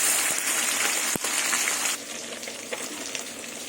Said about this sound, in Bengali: একদিকে মাছ ভাজা হয়ে গেছে মাছগুলো উল্টিয়ে দেবো